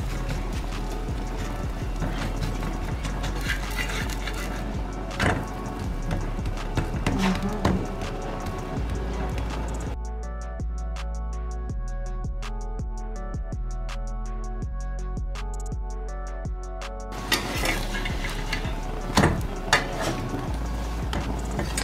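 A paratha frying in ghee on a hot tawa gives a steady, dense sizzle with scattered clinks of a utensil, broken by a quieter stretch partway through, close and continuous.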